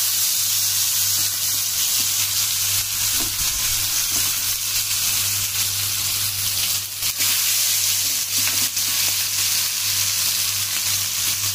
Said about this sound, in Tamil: இப்போ லேசாக இதை எடுத்து இப்படி திருப்பி போடுங்க.